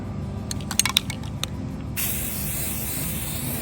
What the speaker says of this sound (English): So we're just going to spray all of these and then let that dry.